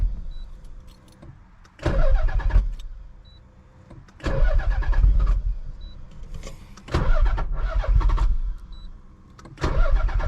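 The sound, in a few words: car engine being started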